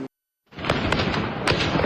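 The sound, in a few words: gunshots at night protest scene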